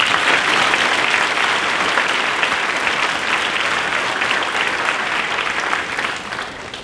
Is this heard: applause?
yes